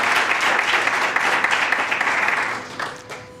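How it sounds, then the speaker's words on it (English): An audience at a community engagement awards ceremony applauds a student volunteer, steady clapping that holds strong for a couple of seconds before thinning out and fading near the end. "So let's give him a round of applause."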